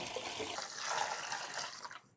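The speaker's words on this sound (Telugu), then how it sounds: "ఇది పూర్తిగా నిండే విధంగా పోసుకోండి వాటర్ బకెట్లో" Water gushes steadily into a bucket for soaking geyser parts during cleaning, a continuous splashing rush that cuts off abruptly at the end.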